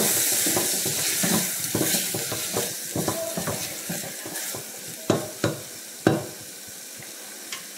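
Spices and salt stirred into an egg curry masala in a pan, Chettinad style, with continuous close sizzling, rhythmic scraping strokes and a few sharp metallic knocks of the spoon toward the end.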